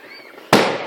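Aboriginal Day 2015 fireworks explode in one sudden loud outdoor bang with a crackling, rumbling tail after a faint whistling lead-in, with no talking.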